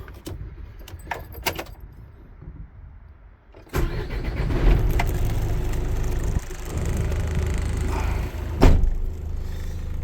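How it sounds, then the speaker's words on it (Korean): A 2013 Hyundai New County 25-seat bus being started: keys jangle first, then the engine cranks and catches into a loud, steady diesel idle close by, with a few clicks over the running engine. "시동 한번 걸어볼게요."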